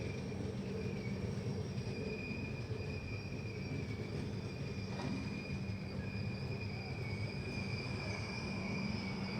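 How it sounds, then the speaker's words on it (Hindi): Kashi Vishwanath Express at Raebareli station, a steady low rumble of the train with faint high, sustained wheel squeals running throughout, quiet and without talk. "काशी विश्वनाथ एक्सप्रेस पहुंच चुकी है रायबरेली।"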